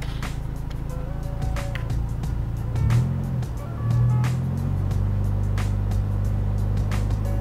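A car engine held at a steady idle-to-rev drone, swelling noticeably twice as the throttle is blipped, loud and close with faint clicks over the top and no talk.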